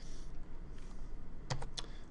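A computer keyboard key is pressed to switch 3D modeling software into wireframe mode, giving two quick, fairly quiet clicks close to the mic over a low background hum.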